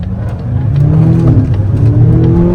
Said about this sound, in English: It makes different noises sometimes when it's engaging or switching from the battery motor to the electric motor or vice versa